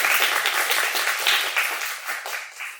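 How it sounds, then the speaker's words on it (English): An audience at a poetry recitation event claps steadily, a dense patter of many hands at moderate volume that gradually thins out toward the end. "let's clap it up one more time"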